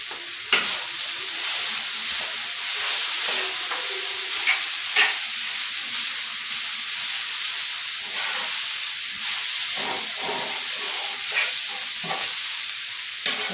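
Keema frying on a hot tawa gives a loud, steady sizzle and hiss, while spatula scrapes and knocks mixing the meat break through at irregular moments.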